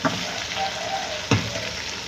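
Red chili powder fries in hot oil in a pan, giving a steady close sizzle with one brief stir or clatter partway through.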